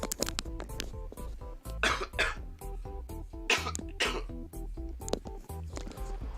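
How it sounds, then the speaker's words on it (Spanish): Repeated coughing from a person with a cold or flu, several harsh bursts in quick clusters heard close up over steady background music. "un momento, voy a toser"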